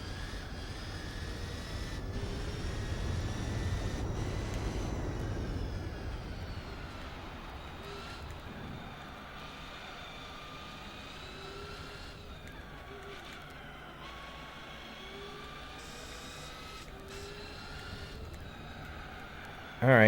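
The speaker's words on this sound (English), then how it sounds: "Sounds like a race car." Race car engine in Gran Turismo 4, upgraded to about 600 horsepower, during a 1000-mile endurance event; a steady, loud engine drone runs throughout, swelling in the first few seconds before settling into a constant, slightly quieter whine.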